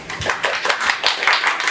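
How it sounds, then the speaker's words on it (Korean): An audience at a book talk claps, a quick burst of close, dense hand claps lasting under two seconds. "박수를 치려면 망설이지 말고 크게 쳐주세요."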